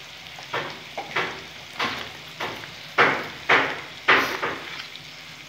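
Cumin and coriander sizzle in hot oil in a pan while cooking an egg dish. Repeated swells of frying hiss come with regular stirring scrapes, about seven bursts in a steady rhythm, close and moderately loud.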